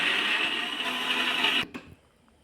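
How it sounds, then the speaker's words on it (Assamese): A mixer grinder whirs loudly and steadily, then cuts off abruptly, leaving near silence. "এতিয়া গুড়ি কৰি ল'ম মিক্সাৰ মেচিনত"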